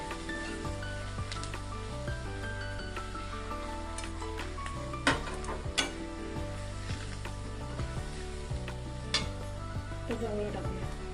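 Asafoetida and turmeric being stirred in hot oil for an ola jawla (fresh small shrimp) dish, a steady sizzle with repeated scraping strokes of a spoon against the pan and a few sharper knocks, with no talking.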